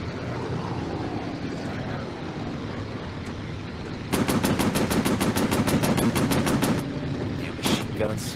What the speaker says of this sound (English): Damn machine guns. We're overheating too fast.